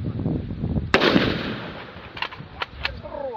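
A sharp gunshot cracks out at a shooting practice range, followed by a few fainter, distant shots at irregular intervals, the echo ringing briefly in the open air.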